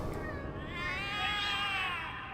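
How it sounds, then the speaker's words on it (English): Cats meowing in The Cat Lady video game, an agitated, sustained wavering yowl that rises and falls over a dense background, fairly loud and continuous, with no speech. "The cats are alarming."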